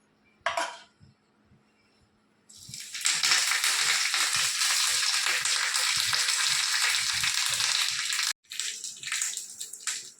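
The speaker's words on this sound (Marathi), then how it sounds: "आता मी थोडीशी फोडणी देते कढीपत्त्याची" Curry leaves hit hot oil for a tempering and burst into a loud, fierce sizzle that holds steady for several seconds, stops abruptly, then flares up again, after a few faint kitchen clinks.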